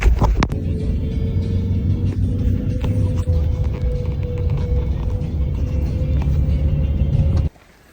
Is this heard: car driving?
yes